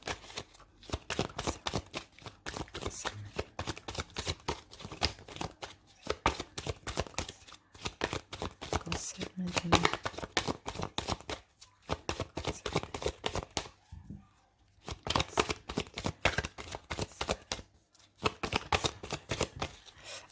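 Tarot and oracle cards, including a golden tarot and a zodiac oracle deck, shuffled by hand over and over, a close, crisp riffling in quick bursts broken by brief pauses, with no talk.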